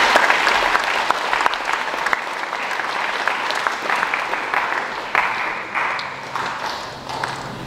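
At a high school high achievers assembly, the audience gives steady applause for students, a dense, moderately loud patter of many hands that gradually thins and softens toward the end.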